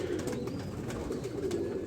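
A flock of pigeons keeps up a steady murmur of low, throaty cooing, overlapping calls close by and fairly loud, with no voices.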